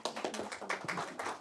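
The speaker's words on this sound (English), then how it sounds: "We can welcome her with a round of applause." A small conference audience claps to welcome a speaker at a public debt oversight event, a short burst of scattered, fairly quiet hand claps with uneven rhythm and no voices.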